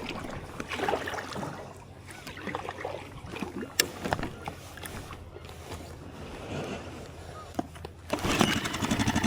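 A Honda BF2DH two-horsepower outboard motor idling through its warm-up, a rough, uneven mechanical running noise with clattering and wind buffeting, picking up louder toward the end.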